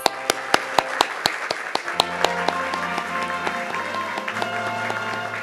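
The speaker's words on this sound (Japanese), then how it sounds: "皆様今一度拍手をお願いいたします" Applause at a Japanese agricultural newspaper advertising awards ceremony during a commemorative photo, opening with sharp, distinct individual claps that swell into steady clapping from a small crowd, with a tonal hum underneath.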